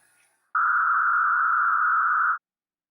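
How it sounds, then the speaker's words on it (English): A steady, slightly rough sine tone at one pitch, masked by a narrow band of noise centred on the same frequency, sounds continuously for nearly two seconds, then stops. "I just added some narrow band noise right around the same frequency"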